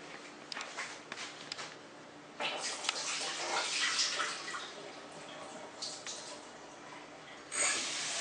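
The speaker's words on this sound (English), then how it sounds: "I'm going to go ahead and rinse this out one more time" Water splashing and rinsing inside a pot that held potatoes, in irregular bursts of running and sloshing close by, with a louder swell near the end.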